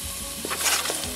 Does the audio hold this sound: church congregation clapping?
no